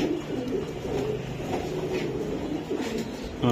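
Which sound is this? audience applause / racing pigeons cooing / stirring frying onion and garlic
racing pigeons cooing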